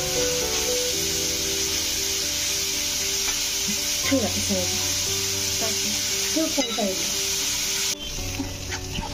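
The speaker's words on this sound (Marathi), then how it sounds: "मग आपण त्याच्यामध्ये बारीक चिरलेला कांदा टाकून घ्यायचा" Finely chopped onion hisses and sizzles loudly in a pan with roasted bay leaf, cardamom and cinnamon, a steady close frying noise broken by clinks and scrapes of stirring.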